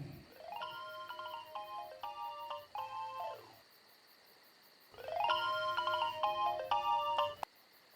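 A telephone ringtone plays a bright, repeating electronic melody in two bursts separated by a short pause, clear and fairly close in an otherwise quiet room, with no talking.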